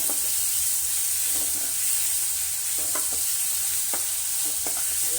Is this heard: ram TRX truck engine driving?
no